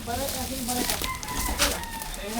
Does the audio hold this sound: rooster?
yes